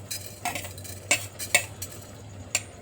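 Spices such as coriander seeds roasting in a pan while being stirred, with quiet scattered clinks and scrapes of a metal utensil against the pan over a faint low hum.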